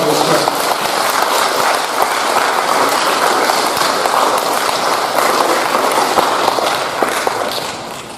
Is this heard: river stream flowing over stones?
no